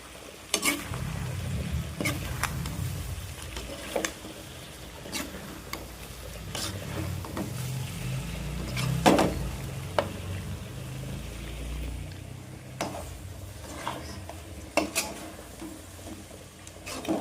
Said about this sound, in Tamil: ஃப்ரை பண்ணுறேன்.